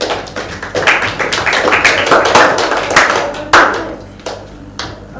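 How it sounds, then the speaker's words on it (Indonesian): Classmates in a schoolroom clap close to the listener, a brisk burst of many hands that rises, peaks, then breaks into a few scattered final claps. "kita beri tepuk tangan dulu"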